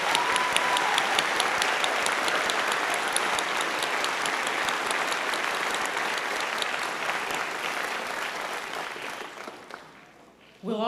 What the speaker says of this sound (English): Let's give the students a round of applause to congratulate them.